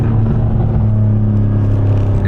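A modified BMW G82 M4 engine accelerating, a loud, steady, deep rumbling drone heard from inside the car, with no talking.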